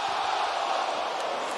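A wrestling arena crowd at AEW All Out 2021, during CM Punk vs Darby Allin, rises in a broad, steady roar of cheering that fills the space without a break.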